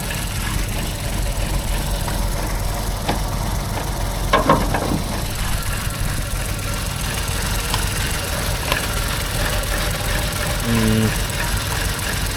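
A three-cylinder car engine idles roughly at a car auction, a steady low running drone with slightly uneven, shaky pulses throughout, with faint background noise and a brief clatter midway.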